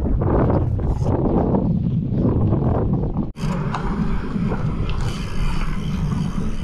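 Strong wind buffeting a microphone outdoors in Wietrzychowice, a loud continuous low roar with gusty swells and a brief dropout midway.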